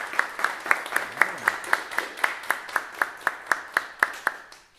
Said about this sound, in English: So a round of applause for Hayden in My Girl.